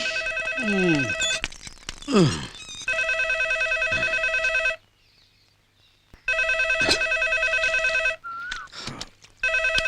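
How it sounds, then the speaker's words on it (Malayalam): Telephone ringing unanswered in a house, loud repeated electronic rings in long bursts with a short silent gap, while someone talks and grumbles over and between the rings. "ഫോൺ എടുക്കാൻ ആരും ഇല്ല ഇവിടെ"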